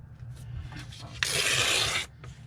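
Paper journal card being trimmed, a dense rasping cut lasting under a second, close and fairly loud, preceded and followed by quieter handling rustles.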